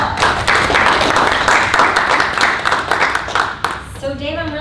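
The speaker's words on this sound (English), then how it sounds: "Give yourself a round of applause" A Scrum team workshop group gives itself a round of applause, with dense, fairly loud clapping for about four seconds that cuts off abruptly, followed by a brief tonal sound as the clapping ends.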